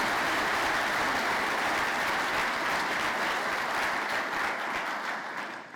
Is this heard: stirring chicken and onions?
no